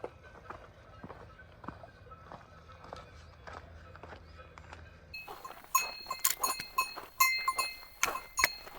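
A cow wearing a cowbell walks along a Swiss mountain pasture trail behind hikers, its bell clanking irregularly with hoof and footstep sounds, growing louder and closer in the second half.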